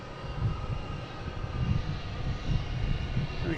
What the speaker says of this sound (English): We have Alaskan Airlines lining up on 4 right, heading to Seattle.